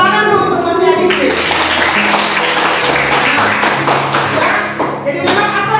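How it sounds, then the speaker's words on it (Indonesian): A classroom applauds a student, dense hand clapping from a group of children that starts after a second and continues steadily to the end, with a voice briefly heard before it begins. "Tepuk tangan dulu untuk Mas Yadistri."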